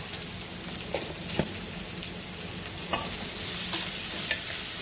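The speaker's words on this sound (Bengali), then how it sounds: "তো মাছটা ভাজি নিচ্ছি" Pangas fish frying in oil in a pan, giving a steady, soft sizzle. A few sharp clinks from stirring or turning the pieces sound throughout, and no one speaks.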